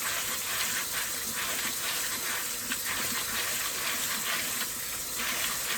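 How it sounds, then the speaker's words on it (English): Pumpkin seeds rinsed in a strainer under running tap water, a steady close hiss and gush of flowing water throughout, with no talk. "I'm going to rinse them in the strainer here and get all that stringy stuff off."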